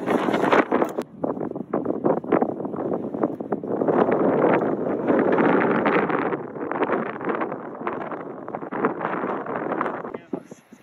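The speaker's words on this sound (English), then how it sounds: "The wind just messes up everything." Strong gusting wind on a golf course buffets the microphone in loud rushing surges that swell and ease, with people talking over it.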